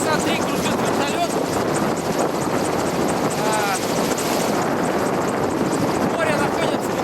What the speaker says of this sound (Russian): В небе вот уже часа 3 кружит вертолет.